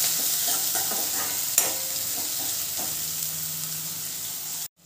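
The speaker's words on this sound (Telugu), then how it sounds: "మూత పెట్టకుండానే కలుపుకొని చూస్తూ ఉందాం." Brinjal curry with fenugreek leaves frying uncovered in a pan, a loud, steady close sizzle with a few stirring scrapes and a sharp clank before it cuts off.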